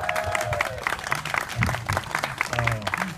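Scattered audience applause at a live variety performance, fairly soft and uneven, with a performer's voice talking over the clapping.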